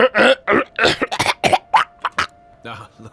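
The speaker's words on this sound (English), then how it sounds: "Clear your throat loudly." A character in the video game Avowed loudly clears the throat and coughs in a series of short, harsh bursts, close and prominent, with a brief pause before a final rougher rasp.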